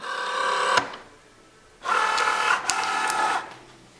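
A Cricut cutting machine loading and measuring smart vinyl: two bursts of whirring motor drive with a faint click between, close and clear, no talk.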